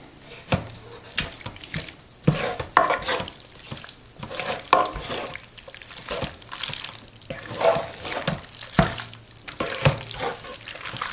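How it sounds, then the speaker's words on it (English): Fettuccine being stirred into a cheesy alfredo sauce inside a Ninja cooking system pot, with wet, sloshing scrapes and soft clicks of the utensil repeating in an irregular rhythm, close by and moderately loud, with no talking. "we'll add our fettuccine in. And then we mix it all together"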